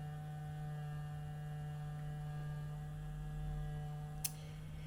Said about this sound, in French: C'est le Cookéo qui fait ce bruit-là.